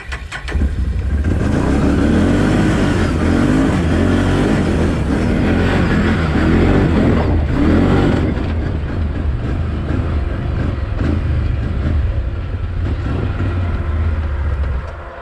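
A 1,000-horsepower Can-Am Renegade XXC ATV climbs a steep rock-crawling hill under hard throttle, its engine roaring loud and close in a sustained strain that eases slightly near the end.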